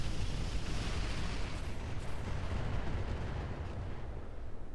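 Incendiary strike in the Roguetech mech combat game, a dense rumbling roar of overlapping explosions and fire, loud and continuous throughout with no gaps or voices.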